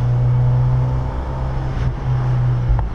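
Mazda Miata NC fitted with a Flyin' Miata exhaust, holding a steady low drone at moderate revs, close and continuous with no talk.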